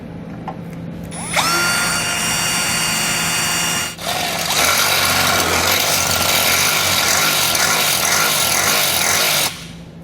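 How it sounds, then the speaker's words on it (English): A power drill with a 3/8 bit bores through a steel truck frame rail, a steady loud high whine running for several seconds, briefly dipping before resuming and cutting off sharply. "You want to get yourself a 3/8 drill bit and we're going to go right through the frame rail in each one of the"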